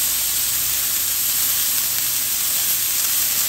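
Steak flap meat sizzling on a hot Mongolian barbecue grill, a loud, steady, broad hiss that stays even throughout with no talking over it.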